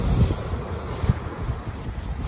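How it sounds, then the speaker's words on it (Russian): Cold north wind on a seacoast rumbles and buffets against the microphone in steady low gusts, with a few stronger thumps, and no voices. "Не знаю, откуда он берется, этот холодный ветер."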